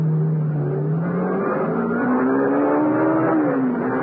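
Sports car engine revving and pulling away, a loud continuous motor note rising and falling in pitch as it accelerates, heard alone without voices.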